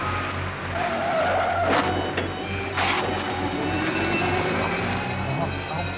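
A new car in a period drama skids and speeds away, tyres squealing and engine revving loudly under a steady motor drone, with voices heard over the scene.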